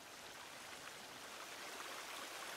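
Steady broadband water rush of a flowing stream in The Forest VR, a continuous soft wash with no distinct events, moderately quiet and unchanging throughout.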